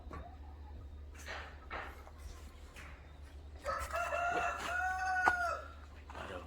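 A rooster crows in the middle distance amid scattered clucks and chicken chatter from a farmyard in Subang, with faint background noise throughout.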